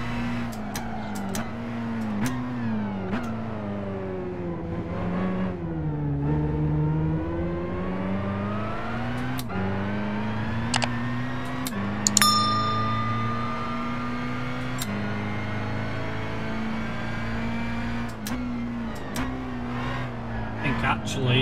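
A race car engine in Gran Turismo 5 on the Seoul Central street circuit drones steadily, its pitch climbing and dropping through gear changes, with a brief tire squeal. Someone speaks over it now and then.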